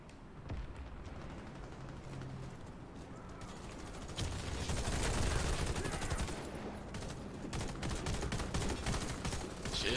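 Gunfire in the Warface shooter game on Xbox One: rolling automatic bursts and scattered shots under a constant rumble of battle, building louder midway and continuing to the end.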